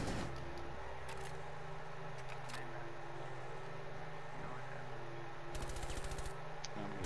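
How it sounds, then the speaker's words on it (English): Automatic gunfire in the Rainbow Six Siege video game: rapid bursts of shots, a long stretch near the start and a dense burst toward the end, fairly loud over a game background with no talk. "I'm getting shot"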